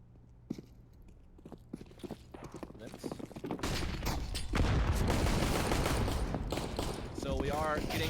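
Pistol shots crack out in a Counter-Strike match on the Mirage map during a DreamHack Masters Dallas esports game, sparse sharp pops at first, then a dense burst of overlapping gunfire and footsteps with a commentator talking over it.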